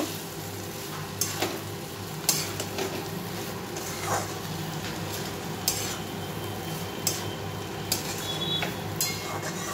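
Egg tarka masala with green chilli stir-fried in a pan: a steady, close sizzle runs throughout, broken by occasional sharp spatula scrapes and clinks against the pan, with no talking.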